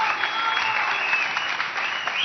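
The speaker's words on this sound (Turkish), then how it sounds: "Loca ayakta alkışladı seni" A studio audience applauds a singer on a Turkish television comedy show, with a dense, steady wash of clapping that holds at full strength from start to finish, with no voices over it.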